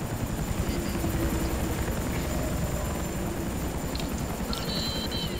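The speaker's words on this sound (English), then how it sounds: "Get the helicopter before it leaves." Helicopter in the game No More Room in Hell, a continuous close rotor drone with rapid chopping pulses and engine whine, holding steady with faint high tones breaking in near the end.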